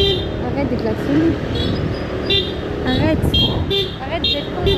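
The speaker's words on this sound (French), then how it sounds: "Arrête de klaxonner." Several car horn toots sound over busy street traffic in Thailand, with people talking nearby throughout.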